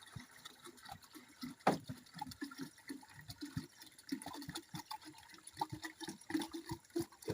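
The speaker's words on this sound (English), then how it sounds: "it is reducing the water pressure. It takes now water down there where the seeds are." Water runs at low pressure from a hose or can onto soil where vegetable seeds are sown, a soft steady trickle and patter with small splashes and drips, close by and without talk.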